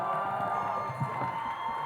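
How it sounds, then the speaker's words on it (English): An audience cheers and applauds after a charity dance performance, a steady wash of crowd noise with whoops and claps sustained throughout, no clear talk on top. "Everybody give them a round of applause"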